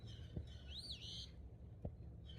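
A small songbird delivers a single clear whistled phrase that swoops up and back down, heard alone against faint outdoor background hum on a spring day.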